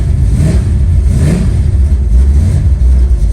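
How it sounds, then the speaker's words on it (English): A Chevy small block 406 V8 with oil pressure problems cold-starts and revs, a loud, close engine roar that rises and settles toward an idle. "That's a real live cold start."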